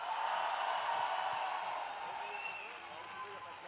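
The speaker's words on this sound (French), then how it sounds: "Je vous demande d'applaudir Mathilde Larère, s'il vous plaît." Applause from a crowd at the Fête de l'Humanité, loud at first and slowly thinning out, with a bit of cheering mixed in.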